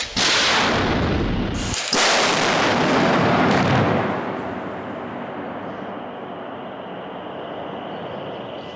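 A K9 self-propelled howitzer barrel test-fires a shell at a proving ground: a huge blast booms out, a second thunderous report follows almost at once, and a long rumbling echo slowly fades away.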